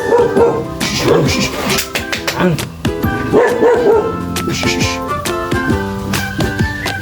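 Dog barking in short repeated bursts with some yips, close and loud, mixed with people talking over it during a bath at home.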